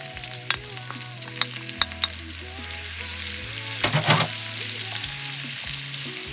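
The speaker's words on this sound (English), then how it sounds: "So you fry your chopped onions until fragrance" Steady sizzling of onions frying in oil, close up, with occasional stirring scrapes over quiet background music.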